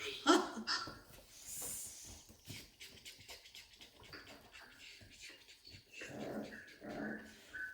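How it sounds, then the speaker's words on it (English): Small puppies growling and grumbling close by, with bursts of snuffly breathing and a few squeaks, fairly quiet and intermittent. "The 5 Misty puppies."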